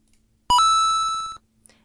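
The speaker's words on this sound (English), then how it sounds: "I can change the timer sound." The Classroom Screen timer alert sounds once as a single electronic tone, bright and buzzy, held for just under a second before cutting off in an otherwise quiet room.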